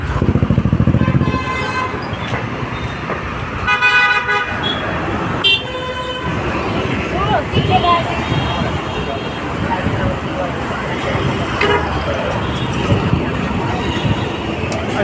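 Busy road traffic in Bangalore on a rainy day, with a steady roar of passing cars and motorcycles and several car horns honking near and far, loud and continuous throughout.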